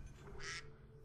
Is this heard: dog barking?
no